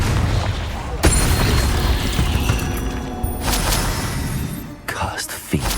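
Confringo blasting spell cast in Hogwarts Legacy, a sharp explosive burst near one second followed by further booms and crackling impacts over a busy battle din, with another burst near the end.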